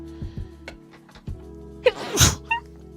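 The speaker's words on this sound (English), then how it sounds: "oh, I have to sneeze, oh no." A single sneeze from a person indoors while crafting yarn mug rugs, a sharp close burst following a few soft breaths and small thumps.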